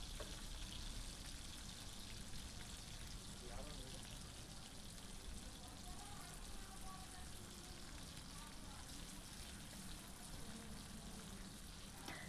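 Potatoes frying gently in oil over low heat, a steady soft broadband sizzle and crackle that continues evenly throughout, faint and close.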